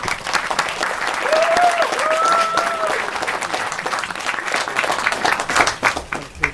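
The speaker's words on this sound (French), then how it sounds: "on peut l'applaudir une nouvelle fois" Audience at an evening book event on Jurassic Park and science applauding a presenter, a sustained round of clapping with a faint voice briefly audible beneath it.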